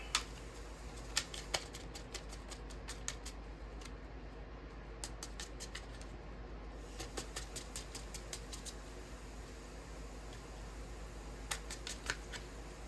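Tarot cards are shuffled and drawn, producing bursts of quick, crisp riffling clicks that come in clusters with quiet gaps between, close-up and fairly soft.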